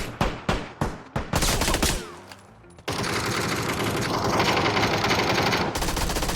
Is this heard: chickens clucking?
no